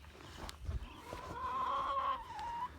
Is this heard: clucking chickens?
yes